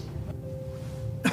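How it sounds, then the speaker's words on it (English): A single short cough bursts out at the end after a faint steady hum, brief and fairly close. "It starts with a cough."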